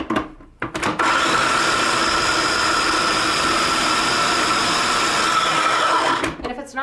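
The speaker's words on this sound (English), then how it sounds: "Okay, so I'll just grind this up." A food processor grinds food with a small splash of water, starting with a few short pulses and then running as a steady, loud whirring motor for several seconds before cutting off.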